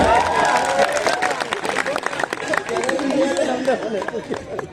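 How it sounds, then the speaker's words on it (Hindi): Audience clapping at a Hindi poetry gathering (kavi sammelan) at an ashram in Shahjahanpur, a scattered burst of hands heard under a speaking voice and crowd chatter, fairly close and busy. "ताली बजाओ भाई लीगल के लिए।"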